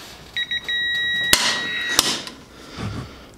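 A Pittsburgh 1/2 inch drive click type torque wrench gives two sharp, close clicks under a pull, mixed with electronic beeps from a tester, with no talk.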